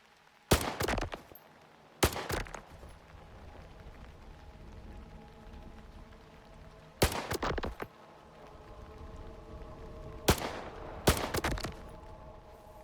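Gunfire in Stalker 2 on PS5 Pro, out in the Zone during long-distance shooting: four clusters of sharp, loud shot bursts, several rapid cracks each, separated by quieter stretches of low ambient rumble.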